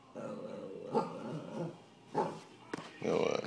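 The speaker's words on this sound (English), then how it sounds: "That's what she's barking at." A pet puppy barks and growls indoors in a few short bursts, close and fairly loud, mixed with a person talking nearby.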